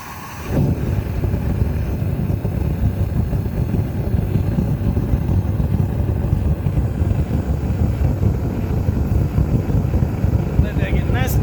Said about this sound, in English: Ignition and then propane.